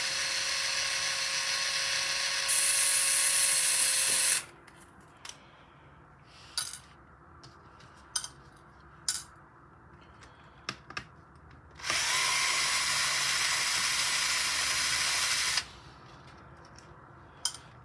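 Power drill backing screws out of a WLtoys 12428 RC car body, two close whining bursts of several seconds each, with small clicks and handling noises between them.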